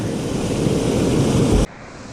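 Waterfall on the Little River Trail, a loud, steady broadband rush of falling water close by, continuous for about a second and a half before cutting abruptly to a quieter, thinner wash.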